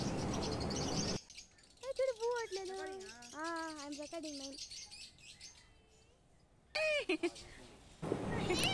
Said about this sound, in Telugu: ఆఫ్రికన్ లవ్ బర్డ్స్ అని చెప్తారనమాట